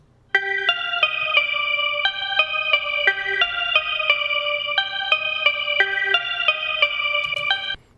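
A Razor synthesizer stem in the chorus of a hip hop beat holds longer, sustained notes in a smooth continuous melodic line with a chorus-like shimmer, alone and steady for about seven seconds.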